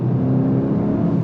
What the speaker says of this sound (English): But very fast shifts from that DSG